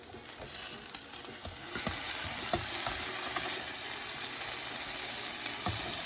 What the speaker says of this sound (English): Let's mix everything in because see how the fat is starting to render out here?